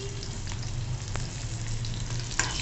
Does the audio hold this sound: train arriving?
no